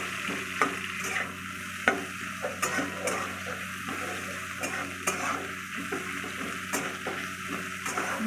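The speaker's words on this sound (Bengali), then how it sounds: "পেঁয়াজগুলো একটু লাল লাল করে খুব লাল লাল করে আমি ভেজে নেব" Onions fry in a pan for potato biryani, browning until deep red, with a quiet continuous sizzle. Frequent spatula strokes click and scrape against the pan at an uneven rhythm, and no one speaks.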